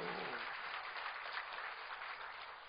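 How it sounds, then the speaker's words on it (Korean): A church congregation claps during a Sunday sermon, a soft, even wash of applause heard from a distance, continuous and slightly fading toward the end. "박수 박수."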